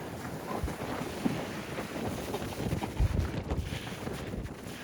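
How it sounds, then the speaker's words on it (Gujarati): Strong wind blows outdoors over snow-covered ground on a cold day, a steady broadband roar with irregular gusts swelling near the microphone and no voices. "જબરજસ્ત પવન છે."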